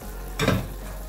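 Meat cooking in a pot gives off a steady low sizzle and frying hiss, with a brief louder stir or burst near the middle, close and moderately loud with no talking.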